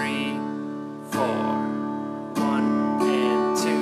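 An acoustic guitar strums a basic eighth-note pattern, with a few bright chord strokes spaced unevenly and each left ringing between them, played up close and alone.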